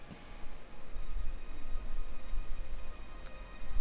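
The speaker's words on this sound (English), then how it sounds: "Okay, so it is raining." Rain falling in the video game Oblivion Remastered, a steady soft hiss of drops spread evenly through the scene with no talk over it.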